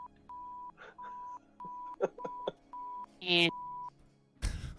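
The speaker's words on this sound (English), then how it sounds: "why'd you just emit a beeping noise?" A steady electronic tone beeps repeatedly in short, evenly spaced pulses at moderate volume, broken by a brief voice and a burst of noise near the end.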